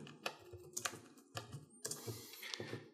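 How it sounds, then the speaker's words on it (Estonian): Typing on a computer keyboard while entering a sentence in LibreOffice Writer, with quiet irregular clicks and short bursts of keystrokes, faint and close, with no talk over them. "näiteks mina trükin sellise lause"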